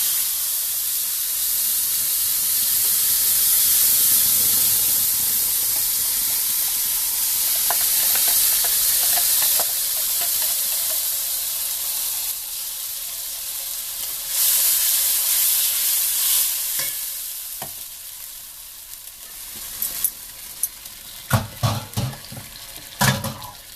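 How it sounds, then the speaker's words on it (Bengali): Tomato and onion paste frying for a katla fish curry: a steady hiss of cooking fills most of the stretch, then grows quieter and breaks into short clinks and stirring scrapes near the end, with no talk. "এখন দিয়ে দেবো টমাটার আর পেঁয়াজের পেস্ট।"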